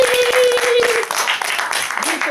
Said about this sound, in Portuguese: vamos então agradecer mais uma vez com uma salva de palmas.